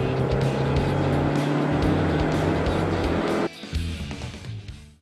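Fast video-game car engine roaring loud and steady with a continuous high drone, then dropping abruptly to a lower rev near the end before fading out.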